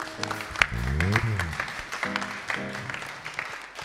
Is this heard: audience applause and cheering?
yes